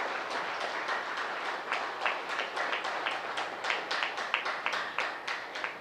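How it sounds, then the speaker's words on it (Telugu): An audience at a political party success meeting clapping for women's power, a dense steady round of applause from many hands, moderately loud and continuous throughout. "ఒకసారి మహిళా శక్తికి గట్టిగా క్లాప్స్ కొడదాం"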